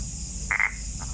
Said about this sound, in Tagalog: tunog ng palaka